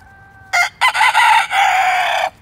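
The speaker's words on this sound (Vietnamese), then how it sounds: "Đây là con trống hai màu lông," A two-colored Asil rooster crows loudly and close by, one short opening note followed by a long, strained, drawn-out call, with no one speaking.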